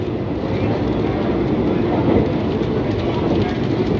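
A Vande Bharat Express train running at speed, heard from inside the carriage as a loud, steady roar and rumble that continues unbroken throughout.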